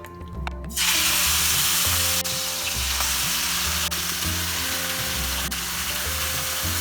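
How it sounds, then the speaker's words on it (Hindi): Marinated chicken goes into hot oil and bursts into a loud, steady sizzle that hisses on without a break, with occasional soft clinks and stirring sounds close by and no talking. "अभी हम मैरिनेटेड चिकन डालेंगे"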